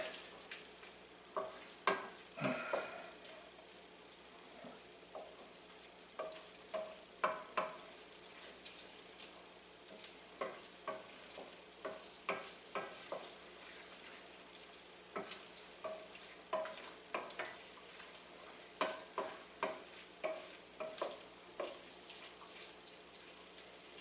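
Shrimp étouffée being stirred in a pot, a quiet bubbling simmer broken by repeated soft spoon scrapes and knocks in an irregular rhythm, low and close.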